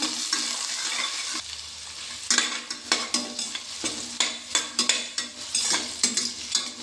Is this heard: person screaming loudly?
no